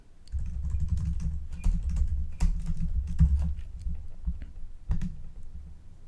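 Typing on a computer keyboard, a quick irregular run of close key clicks and taps with a few heavier strokes, steady throughout with no voices.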